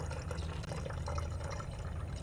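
Tap water mixed with vinegar being poured into a container to make a strong rust-removing soak for a rusty grill; a loud, continuous splashing fill runs the whole time, close by and without talk.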